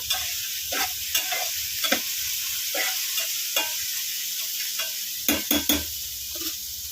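Ivy gourd (tindora) fries in a pan with a steady, bright sizzle, while a utensil stirs and scrapes through it in irregular clinks and knocks, some close together near the end; no one talks.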